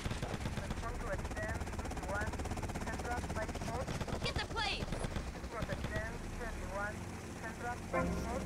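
A steady helicopter rotor drone and engine rumble in GTA Vice City run throughout, with people talking over it and occasional bursts of gunfire.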